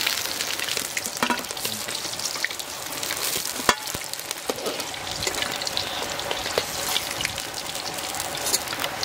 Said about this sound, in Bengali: অপেক্ষা করতেছে কখন একটা শোল মাছ ভাজা হবে